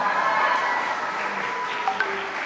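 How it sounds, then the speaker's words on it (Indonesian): Applause from an audience at a Nahdlatul Ulama gathering in Batam, a steady even wash of clapping that fills the short stretch and thins slightly toward the end. "Tepuk tangan untuk Ikatan Pelajar Putri Nahdlatul Ulama."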